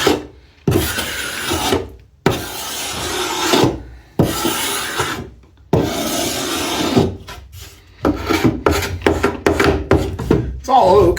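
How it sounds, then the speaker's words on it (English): Repeated rasping scrapes across old solid oak, in long strokes with brief pauses, then quicker short strokes near the end; close and fairly loud. "Now I could sit here and scrape this whole thing and chit chat."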